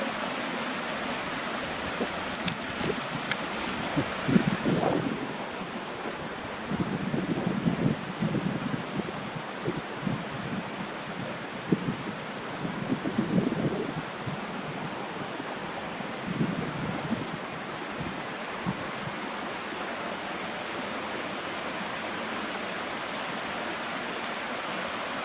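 A river flowing near a riverside campsite, a steady broadband rush of water at moderate level with occasional nearby handling noises over it.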